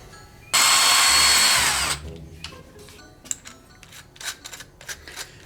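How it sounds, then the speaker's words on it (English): A power drill bores a 3/8 hole on a C1500 truck during a manual brake conversion in one loud, steady burst of about one and a half seconds, followed by quieter clatter and scattered handling noises. "now we're gonna go ahead and drill this 3/8"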